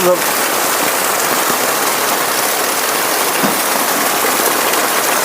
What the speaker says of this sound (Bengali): ছাদের থেকে বৃষ্টির পানি বের হচ্ছে কত জোরসে বৃষ্টির পানি বের হচ্ছে